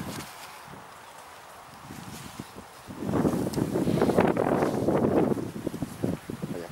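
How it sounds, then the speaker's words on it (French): Wind blowing through a permaculture vegetable garden in June, a soft rustle at first that swells into stronger gusts and leaf rustling for the second half, with no talking. "Il y a pas mal de vent aussi."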